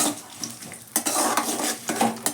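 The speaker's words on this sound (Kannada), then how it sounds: "ಈ ಟೊಮೆಟೊ ಈರುಳ್ಳಿ ಇದನ್ನು ಹಾಕಿ ನಾನು ಫ್ರೈ ಮಾಡಿಕೊಡ್ತೇನೆ" Tomato and onion fry in a coconut oil tempering in a pot, a soft sizzle under scraping stirs of a metal spoon against the pan, close and fairly quiet.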